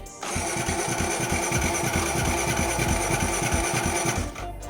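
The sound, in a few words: motorcycle engine running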